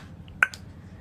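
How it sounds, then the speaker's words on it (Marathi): A young child snaps their fingers once, a single short crisp snap followed by a faint second one, close and clear against a quiet room. "आणि ते बोट असं चुटकी करतेस ते बघू."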